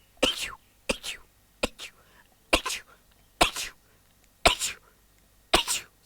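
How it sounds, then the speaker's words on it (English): A person sneezes repeatedly, about seven sharp bursts spaced roughly a second apart with short gasping intakes between them, close and fairly loud in an otherwise quiet room. "By now you should be used to my weird sneeze"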